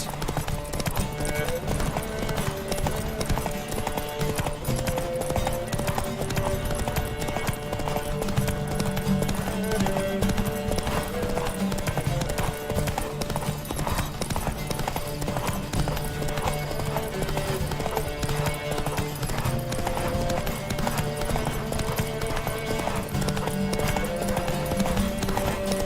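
Hooves clatter in a fast, continuous rhythm as horses gallop in a race in The Witcher 3: Wild Hunt, loud and steady over a dense layer of music and game sounds.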